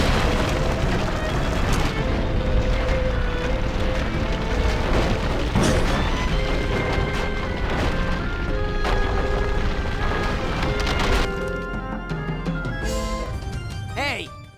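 A loud, sustained explosion with booming rumble and crashing debris fills the scene in the Ben 10 Ultimate Alien video game, layered over game music throughout.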